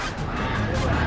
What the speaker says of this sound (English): I hear some ducks.